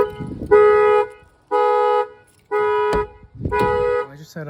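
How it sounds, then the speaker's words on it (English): A 2004 Toyota Tacoma's alarm sounds in four evenly spaced, loud horn-like honks of about half a second each, close by, with some clatter between the blasts. "set off the alarm system"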